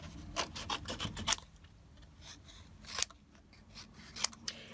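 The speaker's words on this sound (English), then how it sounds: "I'm going to come in with my scissors." Scissors snip around rubber-stamped paper snowflake cookie shapes, a quick run of close, crisp cuts followed by a few scattered snips over quiet room tone.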